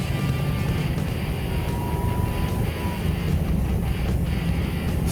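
An off-road vehicle on 35-inch tires with 488 gears drones steadily in fifth gear, a constant low engine and road rumble with wind buffeting and no distinct breaks.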